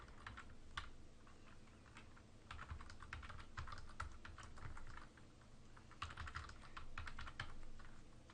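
Computer keyboard keys tapped in a steady run of quick, close clicks while values are entered, with a few short pauses and no talking.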